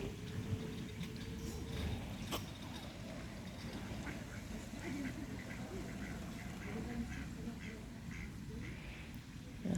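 Ducks quack repeatedly at a reservoir as they gather to eat scattered feed, a flock calling over steady background bustle, with occasional faint voices.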